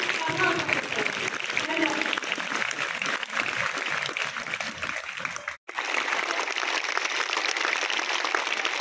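Applause from an audience of students and staff at a government school thanking guests, steady clapping that breaks off abruptly for a moment and then resumes just as full.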